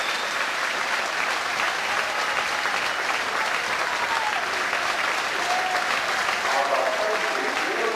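Home fans at a Plymouth Argyle football match in 1997/98 give a standing ovation, sustained dense applause and crowd noise that continues steadily throughout, with a commentator speaking over it.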